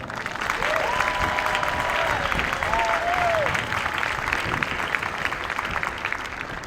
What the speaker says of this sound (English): Please, give me a hearty round of applause for them.